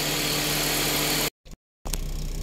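The engine of a Honda Fit with a low-power, misfiring fault runs close by during a test, a steady loud droning hum that cuts out abruptly into silence, briefly sputters, then resumes.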